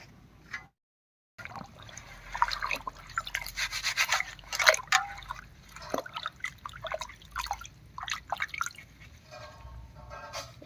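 Pumpkin leaves being washed by hand in water, with continuous splashing, rubbing and dripping at close range, rising and falling in irregular bursts, no one speaking.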